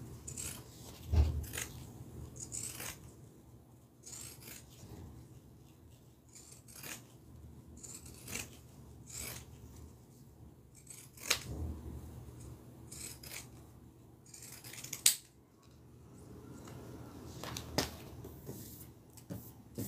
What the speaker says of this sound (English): let me trim down my seam allowance